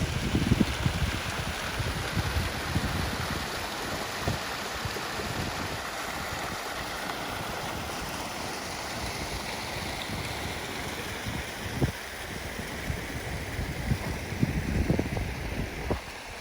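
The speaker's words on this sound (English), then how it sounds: "Check out this beautiful waterfall." A waterfall pours near a mountain lake in the High Uintas wilderness, a steady, full rushing roar that holds constant without pause, with faint wind buffeting the microphone.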